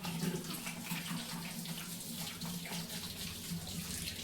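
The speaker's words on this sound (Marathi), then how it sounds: "हात कशाने धुतला बघा, लिक्विडने धुतला" A steady rush of tap water running into a sink at home while hands are washed with liquid soap, continuous and even, moderately quiet, with no talking.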